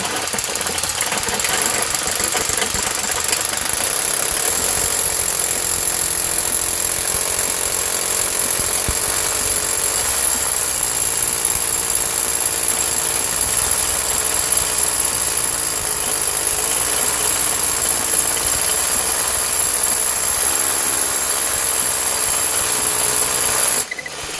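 Loud, continuous mechanical hammering and grinding of an SDS rotary hammer drill boring into masonry, steady and unbroken for the whole stretch.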